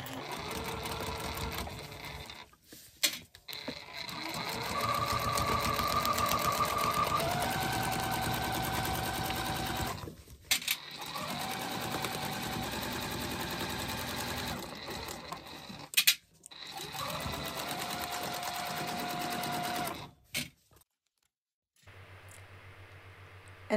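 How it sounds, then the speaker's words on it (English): Sewing machine stitching along a quilt block seam with backstitching, a fast steady mechanical whir in long runs broken by short pauses, close and fairly quiet, with no talk. "just stitch all the way along the seam and backstitch when you get to the next dot"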